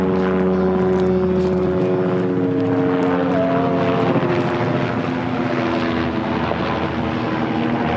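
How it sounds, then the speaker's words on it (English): A helicopter passes overhead with a steady, loud rotor and engine drone that holds throughout, over faint outdoor wind. "Oh, it's a helicopter."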